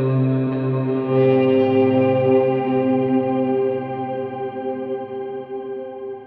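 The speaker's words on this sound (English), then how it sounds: "that's basically ambient clean tone and swells" Electric guitar through a MIDI-controlled pedalboard preset, an ambient clean tone with volume swells: sustained chords bloom in softly and ring out with chorus and echo, loud and alone.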